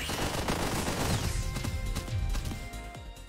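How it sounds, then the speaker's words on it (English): Missiles fire in the video game One Step From Eden: a dense barrage of rapid, overlapping blasts and crashing impacts, loud and continuous, tapering slightly toward the end. "The missiles are firing off nicely as well."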